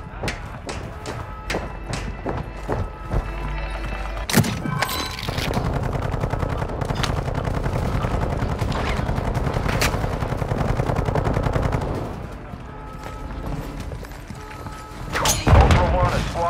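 Rapid bursts of automatic and single-shot gunfire in Call of Duty Modern Warfare Warzone DMZ, loud and dense with thuds and impacts, alongside game radio voice callouts.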